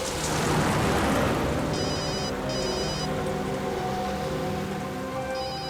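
A telephone rings in short, repeated electronic trill bursts at moderate volume over a steady hiss of rain-like background noise.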